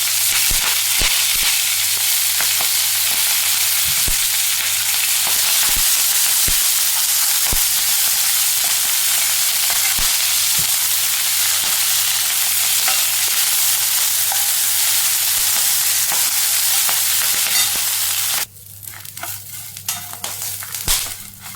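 Moringa leaves and urad dal sautéing in a hot pan: a loud, dense, close sizzle runs steadily with occasional taps from stirring, then drops off sharply near the end to softer, intermittent crackling.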